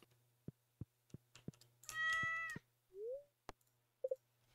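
A cat in the Stardew Valley farming game gives a drawn-out meow, followed by a shorter mew and a tiny chirp, set among sharp clicks and light tapping sounds over a low steady hum.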